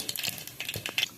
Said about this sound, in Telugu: ఆయిల్ వేడెక్కాక ఆవాలు, జీలకర్ర, కొద్దిగా మెంతులు,